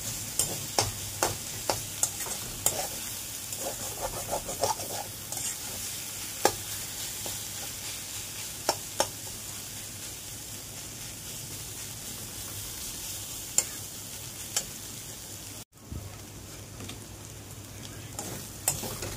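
Greens with coconut stir-fried in a pan: a steady close sizzle runs throughout, punctuated by repeated sharp clacks of a utensil stirring and scraping, with a brief pause near the end.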